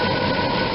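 A car engine idles steadily in park after new spark plugs and wires were fitted, a smooth, continuous low rumble, close and loud with no talking.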